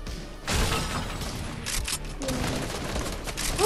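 A video game shootout, with a dense, continuous clatter of gunfire and bursts layered over a busy background, moderately loud and sustained throughout.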